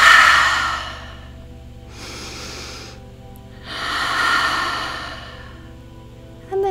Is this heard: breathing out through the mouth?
yes